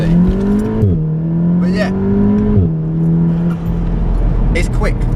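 Volkswagen Golf R with four-wheel drive pulling away and accelerating, its engine drone heard from inside the car rising through gears with brief dips at each shift, steady and prominent, with someone speaking briefly.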